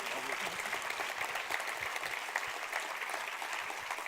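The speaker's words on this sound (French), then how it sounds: "Les applaudissements nourris, fournis." Steady, dense applause from a large audience, sustained at an even level throughout without a break.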